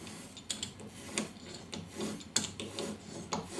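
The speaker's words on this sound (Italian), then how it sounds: "quando lucidate sulla mattonella in MDF, premete, esercitate la pressione soltanto in trazione e non in spinta" Sharpening a European bench chisel on an MDF tile produces repeated dry rasping strokes with small ticks, steady and close, in quiet surroundings with no talking.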